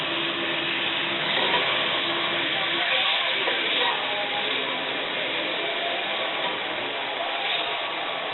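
Beef searing in a hot pan for an individual beef Wellington gives a steady, dense sizzle that holds at an even loudness from start to finish, with no talking over it.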